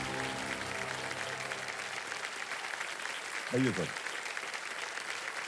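Studio audience at a televised quiz show applauding continuously and loudly throughout, with a short spoken greeting heard briefly over the clapping.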